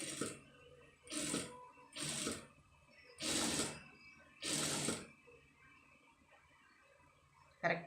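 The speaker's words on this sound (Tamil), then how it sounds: "இப்போ கரெக்டாக அந்த அளவுக்கு அதில் வந்து தையல் போட்டுக்கிடுவோம்." Sewing machine stitching the shoulder seam of an embroidered blouse, with five short, close bursts of whirring stitching separated by pauses.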